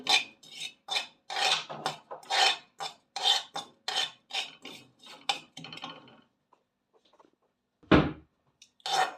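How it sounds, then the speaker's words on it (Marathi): Poppy seeds being stirred and roasted in a pan: a rhythmic series of dry scraping, rasping strokes, about a dozen in quick succession, then a pause and a couple of further scrapes. "ते खसखस जे आहे ती अशी भाजून घ्यायची"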